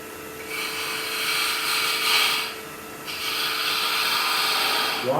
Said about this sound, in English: Good sharp skew makes those easy corners